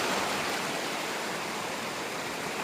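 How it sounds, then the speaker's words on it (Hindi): A small waterfall near a village pours out a steady, dense broadband rush of falling water, continuous and fairly close with no other sounds standing out. "गांव के आसपास ही एक छोटा सा वाटरफॉल है।"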